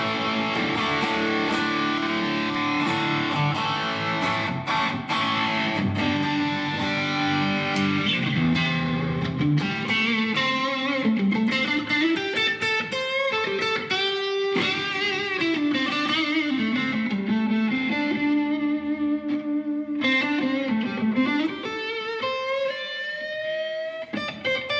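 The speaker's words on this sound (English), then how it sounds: "I'm adding in a good old Boss SD1. Probably my favourite overdrive pedal" An electric guitar played through a Boss SD1 overdrive pedal on a Quad Cortex, a sustained, gritty overdriven lead with bending melodic lines, close and loud, with no talk.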